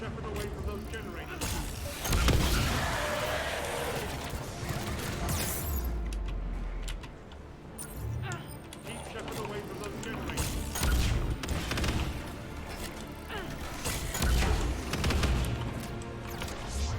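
Gunfire in the video game Mass Effect 3, scattered bursts and impacts mixed with explosive booms and game noise, with someone talking over much of it.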